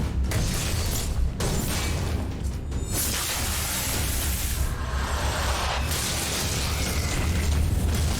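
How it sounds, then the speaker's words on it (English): Explosions and booms in the action game Animus: Revenant, a dense continuous rumble of blasts and bursts with a few sharper hits, loud throughout with no talk. "If I'm too close, I get hit by the explosion."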